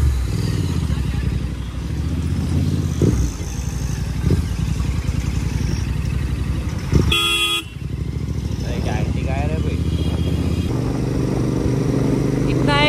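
A Royal Enfield GT650 motorcycle engine runs and revs steadily nearby, with a brief clatter and a short horn-like toot midway, under continuous engine drone.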